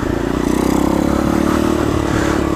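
Coolster 125 pit bike engine running steadily at close range, a loud buzzing drone with clattering undertones and no pauses, like riding along a road.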